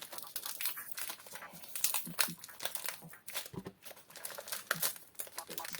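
Crinkling and tearing of a Dragon Ball Super Card Game Saiyan Showdown premium booster pack foil being opened up close, with irregular sharp crackles and rips throughout and no talk.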